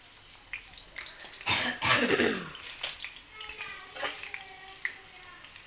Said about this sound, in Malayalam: ചെറിയ ചുവന്നുള്ളി അതിങ്ങനെ മുറിച്ച് ഒന്ന് ഒറ്റ ഒന്ന് മതി ജസ്റ്റ് എണ്ണ ചൂടാകുമ്പോൾ അതിലിട്ടിട്ട് പൊരിച്ചെടുക്കുക